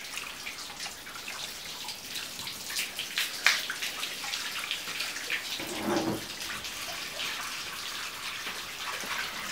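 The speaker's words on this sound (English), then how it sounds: "I'm now going to flood the windscreen." Water poured over the windscreen of a Ford Transit van while checking for leaks, a steady splashing, pattering wash with drips and trickles, moderately close and continuous, without speech.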